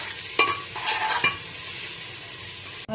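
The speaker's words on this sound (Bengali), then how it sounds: "পোলাওর মাটনটা এখনো ওই তেল ছাড়াই বলতে গেলে ফ্রাই করছে ও।" Mutton fries in a pan for mutton polao, a steady close sizzle with a couple of sharp stirring scrapes near the start and a brief thump at the end, no voices.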